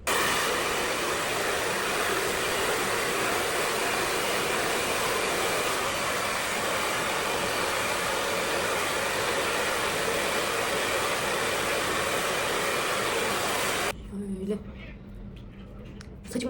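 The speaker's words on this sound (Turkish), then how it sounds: "Şimdi hemen saçma hızlı bir fön ve hazırlanalım" A hair dryer blows hair in a quick blow-dry, a loud steady roar running without pause until it cuts off near the end, followed by quiet room noise.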